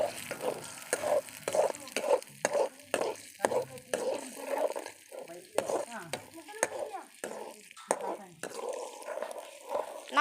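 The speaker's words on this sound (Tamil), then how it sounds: "இப்போ நல்லா முட்டை ஊற்ற போகிறோம். பாருங்க, முட்டையை ஊற்ற போகிறோம். நல்லா கிண்டி விட்டுக்கலாம் கைஸ்." Egg being stirred and fried in a pan outdoors in the woods, with soft sizzling under a series of sharp, rhythmic scraping and tapping strokes of a spatula against the pan.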